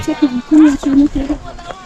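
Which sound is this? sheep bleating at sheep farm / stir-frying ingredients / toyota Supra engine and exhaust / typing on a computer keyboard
sheep bleating at sheep farm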